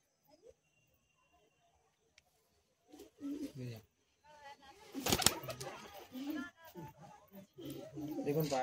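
A released pigeon coos in several short, low bursts, fairly close and moderately loud, mixed in with people talking nearby in an otherwise quiet outdoor setting.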